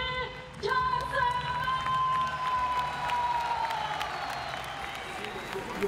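A fight-night crowd applauds and cheers as a 30-year-old debuting professional fighter is introduced, a broad wash of clapping and shouts under an announcer's voice and a ringing tone.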